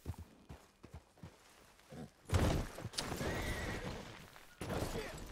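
A horse in the video game Red Dead Redemption 2 whinnies loudly after a few hoof clops, its shrill neigh rising up and then trailing off, with another burst close behind it.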